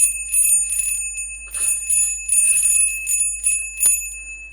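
Bell on a rope rings in several separate bright, jangling bursts with short pauses between, close and clear with no talking over it.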